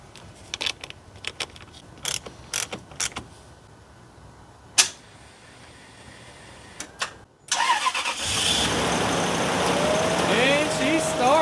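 After a few scattered clicks and knocks, a Toyota Tundra SR5 with newly replaced ignition coils cranks briefly and fires up, then settles into a loud, steady idle close by.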